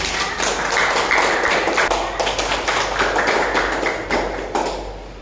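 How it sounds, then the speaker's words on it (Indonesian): A classroom audience applauds students after their group presentation: steady, dense hand clapping that continues for about five seconds at moderate loudness, slowly thinning toward the end. "beri aplaus dulu untuk teman-teman"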